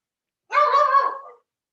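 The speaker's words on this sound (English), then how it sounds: "You can hear my pup barking." A pet puppy named Riley lets out a single short, close bark-like yelp lasting under a second, alone against silence.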